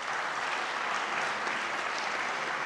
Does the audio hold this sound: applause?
yes